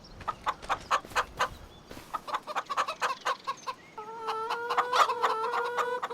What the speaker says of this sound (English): chickens are laying some fresh eggs